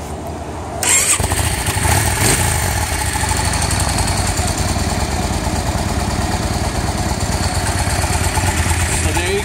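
A 2004 Yamaha V Star 650 Classic cruiser cranks over and fires up after about a second, then settles into a loud, steady idle that keeps rumbling evenly to the end.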